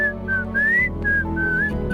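A person whistles a short melodic tune, clear and close, in a few sustained rising and falling notes with no other sounds around it.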